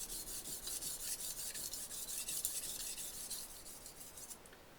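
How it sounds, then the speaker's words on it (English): A knife blade is rubbed across a brick to sharpen it, making soft rhythmic rasping strokes, roughly a dozen back-and-forth passes at an even pace, quiet and close with no talk. "Can he sharpen a knife on a brick?"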